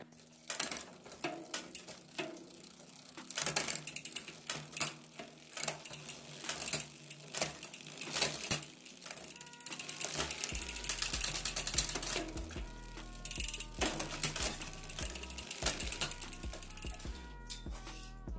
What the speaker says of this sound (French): Maintenant, il va falloir passer les vitesses.